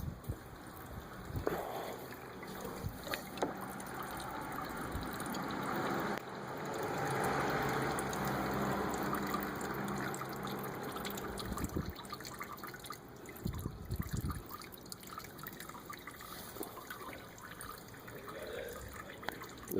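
Coolant mixture for a Ford Explorer is dumped out of a container, heard as a faint, steady splashing trickle of liquid with occasional drips and knocks, close by and without talk.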